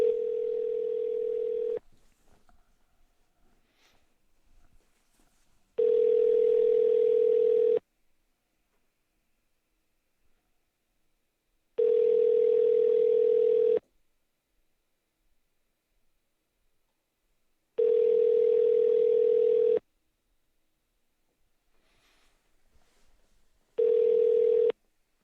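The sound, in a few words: telephone dial tone and ringing while calling a listener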